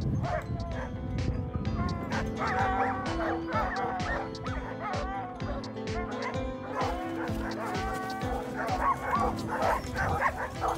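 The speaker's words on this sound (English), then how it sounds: "This is where the Alaskan dogs sleep and rest when they're not sledding." Several Alaskan sled dogs bark, yip and whimper continuously up close at their camp, an excited overlapping chorus with no letup.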